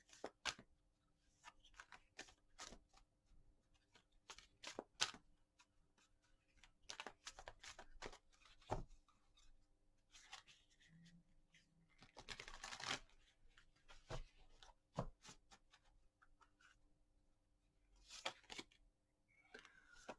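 Tarot cards being shuffled by hand during a reading, heard as faint, scattered riffling and flicking bursts with quiet gaps between them, close but soft in an otherwise still room.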